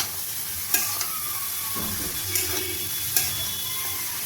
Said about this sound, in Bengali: লাউটা দিয়ে আমি ভালোভাবে নাড়িয়ে নেব।